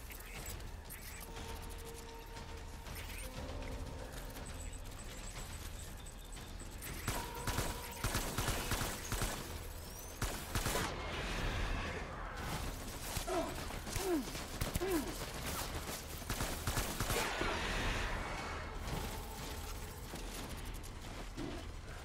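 Scattered gunfire in Death Stranding, a muddled mix of sharp shot-like bursts and mechanical clatter over a steady background, moderately loud with no clear rhythm throughout.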